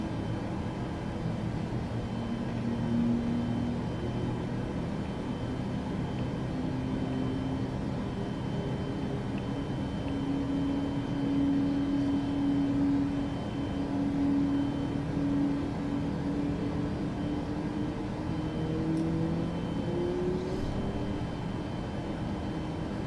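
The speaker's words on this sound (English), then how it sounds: "And now the engine continues to run up." Steady, fairly quiet whine and rumble of a Boeing 737 MAX jet engine spooling up during start in Flight Simulator 2024, with rising tonal hums over a constant droning bed and no talking.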